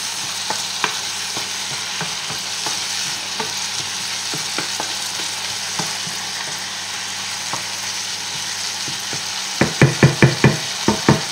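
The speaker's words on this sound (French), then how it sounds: "On remue de temps en temps." Sausages and lentils frying in a pan, with a steady sizzle throughout and occasional spoon scrapes, then a quick burst of several louder stirring clacks near the end.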